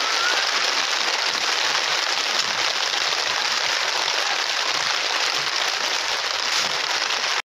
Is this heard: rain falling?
yes